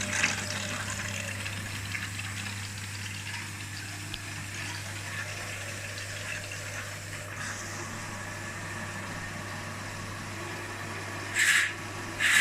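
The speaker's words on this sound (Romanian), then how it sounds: "Se ia apă la clătitor." An Electrolux or Arctic washing machine draws in water for the rinse, a faint steady hiss and flow over a low constant hum, with a couple of brief louder surges near the end.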